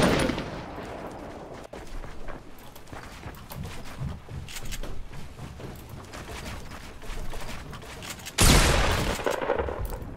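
Sniper gunfire in the Fortnite battle royale video game: scattered sharp shots over steady game noise, with one loud close blast near the end.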